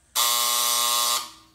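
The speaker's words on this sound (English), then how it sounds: "and loud buzzer that lets you know your exposure is done" A homemade photographic darkroom timer sounds its loud electric buzzer, one harsh continuous burst of about a second that cuts off abruptly and leaves a short fading tail.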